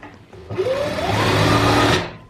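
Sewing machine stitching a kameez seam, running at a steady, fast whirring pace that rises after a brief start and holds for about a second and a half before stopping.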